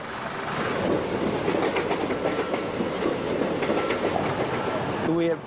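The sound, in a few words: local trains passing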